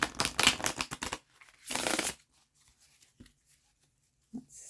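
Tarot card decks are shuffled in quick riffling bursts: a dense flurry at the start, another burst shortly after, then faint scattered taps and handling sounds nearby.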